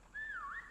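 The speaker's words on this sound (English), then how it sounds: "We're whistling." A single whistled note from a person during a prop hunt game, clear and fairly soft, gliding down then back up in pitch for about half a second against quiet background.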